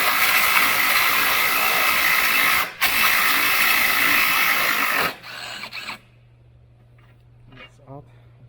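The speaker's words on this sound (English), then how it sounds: "I'm gonna remove this bolt and this bolt here." Power ratchet loosening a control arm bolt on a 2011-2016 Hyundai Elantra, a loud continuous buzzing whir for about five seconds with one brief pause, then stopping and leaving faint clicks and handling noise.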